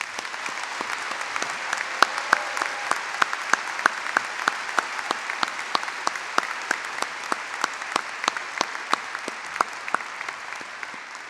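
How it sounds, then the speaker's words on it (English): An audience at the Upstate Medical University commencement ceremony for the class of 2019 claps in sustained, even applause, dense and steady throughout with sharp individual claps standing out, fairly near and with no voices over it. "Let's give the truly exceptional class of 2019 a rousing round of applause"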